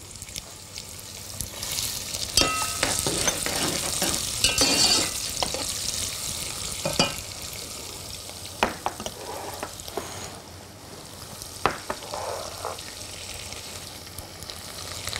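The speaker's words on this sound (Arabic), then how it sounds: "هنحط الزيت على النار وهنحط مع البصل" Onions and peanuts fry in oil for a Sudanese-style spinach and peanut butter dish, giving a steady close sizzle broken by scraping stirs and a few sharp utensil knocks, with no talking.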